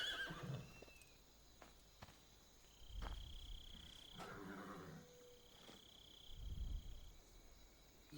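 A horse in the Metal Gear Solid 3 jungle neighs faintly between scattered hoof clops, muffled thumps and night ambience of frogs and insects, distant and quiet, with no speech.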